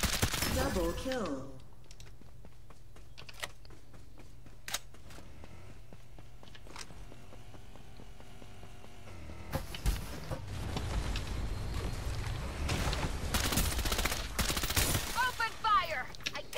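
Gunfire in the battle-royale video game Farlight 84: dense bursts of rapid shots near the start and again through the second half, with quieter stretches of game ambience between.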